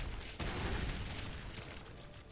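Booming explosions in the Doom 2 video game, a sudden heavy blast followed by rumbling, crackling aftermath that fades slowly, fairly faint overall and with no voices.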